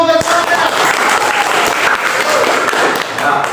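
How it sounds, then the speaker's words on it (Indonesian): A classroom of students claps briefly during a lesson, a loud, close burst of scattered hand claps after a voice, with some thumps mixed in. "Oke, tepuk tangan dulu guys."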